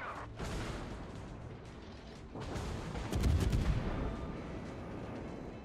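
Heavy battleship artillery salvos boom in a World of Warships naval battle aboard the Alaska, a broad rumbling blast swelling midway and lingering, with a steady rumble of engine and sea noise beneath.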